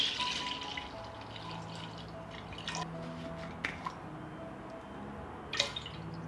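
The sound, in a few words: milk being poured into a deep pot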